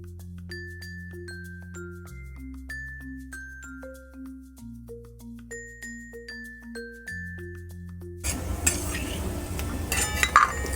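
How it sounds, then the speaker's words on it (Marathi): Dry fruits fry and are stirred in ghee in a pan for a Diwali karanji. Steady sizzling and scraping come in near the end, loud and close, after a long stretch of plucked tonal music. "आपलं ड्रायफ्रूट आहे तर आपण आता हे फ्राय करून घेऊया तुपामध्ये"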